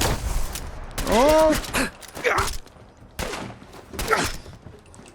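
Gunfire in the Fallout 4 video game, a burst of loud shots with sharp impacts across the clip, mixed with a man's exclamations and character voices.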